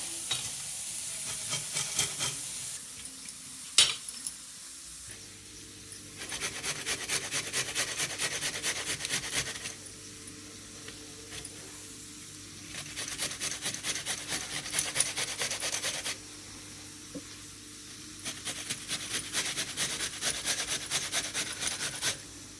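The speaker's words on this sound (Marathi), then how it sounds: "तोपर्यंत आंबा खिसून घ्या" Raw mango being grated for mango rice: four separate stretches of rapid, rhythmic rasping strokes against the grater, each lasting several seconds, with quiet pauses between them, soft and close.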